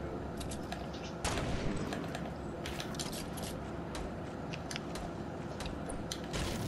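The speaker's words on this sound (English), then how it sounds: "I'm getting shot at." Gunfire crackles in Fortnite, a steady background of rapid distant shots and mechanical clatter with a few louder bursts, continuous throughout.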